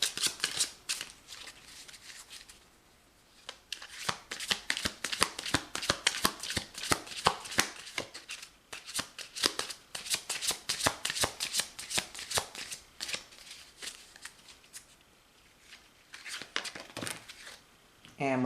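Tarot cards are shuffled by hand close up, rapid papery riffles and flicks in bursts, with pauses between them, while a voice speaks softly over the shuffling.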